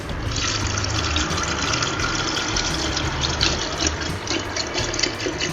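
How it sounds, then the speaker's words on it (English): Water pours steadily into a glass jar while jam wine is being made, giving a continuous close splashing and gurgling stream with no pauses. "Now we add some water."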